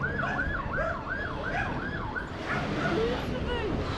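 A police car siren wails in a rising and falling pattern, moderately distant and steady, with faint voices and a dog barking in the background.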